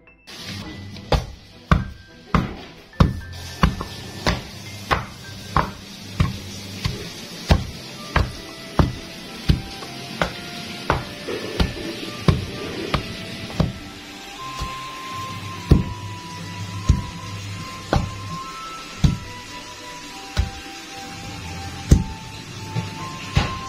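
Palm sugar, tamarind and salt pounded in a stone mortar with a pestle for pecal spice paste: a long run of heavy, evenly spaced thuds, loud and close, slowing slightly toward the end.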